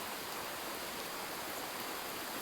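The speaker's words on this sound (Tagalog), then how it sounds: "Malaki to. Itong sapa na to mga guys. Lalo na pag magbaha." A swollen creek after flooding rushes steadily with a broad, even hiss of flowing water, constant and fairly close, with no voices over it.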